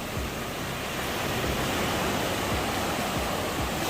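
Steady roar of ocean surf, a dense continuous wash of breaking waves with no pauses and no voices.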